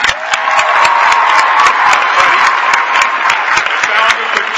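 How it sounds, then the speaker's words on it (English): A crowd at a New York City public service event claps in a dense round of applause, loud and close, with scattered sharp individual claps and some cheering throughout. "Right now, a round of applause."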